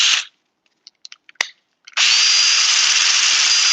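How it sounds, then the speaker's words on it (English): A power drill spins a wooden dowel wrapped in sandpaper at a craft demonstration, giving a brief whir, a few light taps, then a loud, steady, close-up whine that carries on to the end. "So I just put the dowel in the end of the drill with some sandpaper."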